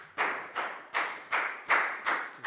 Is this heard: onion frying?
no